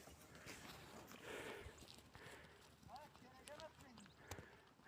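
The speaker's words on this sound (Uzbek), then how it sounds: "Ajratib ketyapti qo'ylar." A flock of sheep walks past while being separated from the herd, many hooves clopping and shuffling steadily on the ground, with voices talking over the moving animals.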